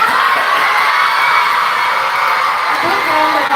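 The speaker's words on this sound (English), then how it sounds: "A big round of applause." A school audience whoops and cheers for two boys who spoke on biometrics at a National Science Day celebration, a loud, continuous wash of shouting children's voices with no clear break.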